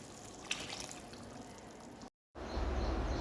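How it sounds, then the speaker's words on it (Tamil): Tamarind water poured into simmering bitter gourd kuzhambu, a soft continuous watery splash and trickle, close and fairly quiet, broken by a brief cut near the end. "இப்போ இதில் புளி தண்ணி ஊற்றிக்கலாம்."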